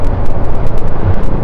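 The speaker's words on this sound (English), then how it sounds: "Just pinch the throttle and it goes." A KTM Duke 390 single-cylinder motorcycle engine roars steadily and loud, close up, as the throttle is opened, with heavy wind buffeting.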